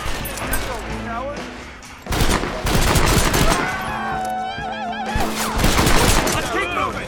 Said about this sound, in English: I didn't realize how quick I could shoot this thing